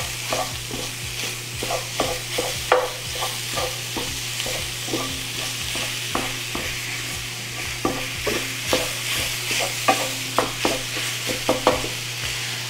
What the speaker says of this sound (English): We're going to cook this sausage and let it get nice and crispy on the bottom.